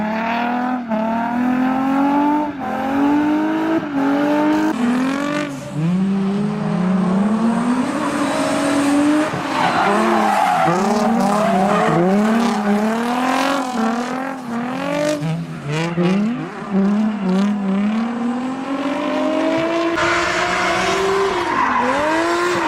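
A Nissan 350Z with a 6-speed manual transmission drifts, with its engine revving and rising and falling under long, loud, continuous tire squeals that waver in pitch throughout.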